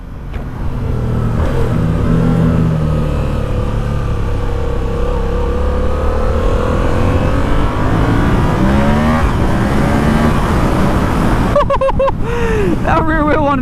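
A 2019 Yamaha XSR700 motorcycle accelerates hard on a highway with no windscreen. The engine's loud, steady roar climbs in pitch through the gears, with wind rush underneath and quick shift breaks near the end.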